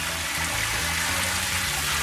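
A waterfall in a farm-building video game gives a steady, full rush of flowing water that fills the whole stretch evenly, with no talking.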